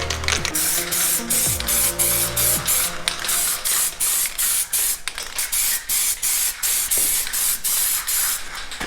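Aerosol can of DipYourCar HyperDip coating being sprayed onto car wheels, a loud sustained hiss broken by many short pauses and bursts as the nozzle is pressed and released, with faint mechanical clicks at the start.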